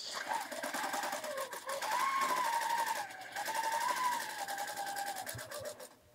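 A Sure Stitch Elite quilting sewing machine on a Cutie Breeze frame stitching a test panel at stitch length 10, a rapid close mechanical chatter whose pitch rises and falls with speed, stopping briefly near the end.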